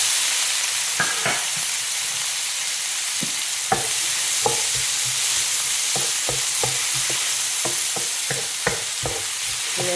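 Onions sautéing in a hot pan give a steady broad sizzle, with a spatula scraping and stirring in irregular strokes at close range, and no voices.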